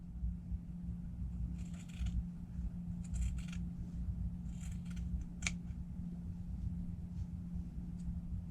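Scissors cut fabric along a marked line, several short crisp snipping bursts at irregular intervals, faint and close over a low steady hum.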